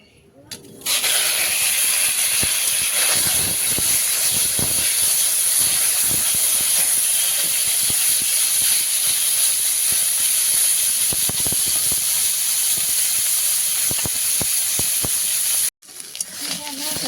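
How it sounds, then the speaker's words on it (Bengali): Bombay duck fish fry in hot oil in a wok, giving a loud, steady, close sizzling hiss that runs almost unbroken and cuts out briefly near the end. "লোটে মাছগুলো মাখিয়ে আর তেলের ওপরে দেবো কড়াই তেল দিয়ে দিয়েছি কড়াইটাও গরম হয়ে গেছে"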